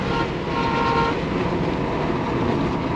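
A train rumbles past loud and close, with a sustained horn tooting for about a second early on over the continuous heavy roar of the wheels and cars.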